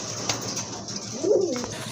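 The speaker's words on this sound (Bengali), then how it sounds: "অনেক বড় সাইজের কবুতর, মাশাআল্লাহ খুবই হেলদি কবুতর।" A large, healthy pigeon kept for sale gives one soft, low coo close by, heard over a steady hiss of background noise.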